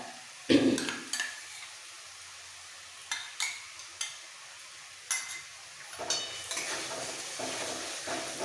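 Masala with white mustard paste frying and being stirred in a pan for katla fish curry: a sharp scrape at the start, then a row of spoon scrapes and clinks over a soft, steady sizzle, close by with no talk.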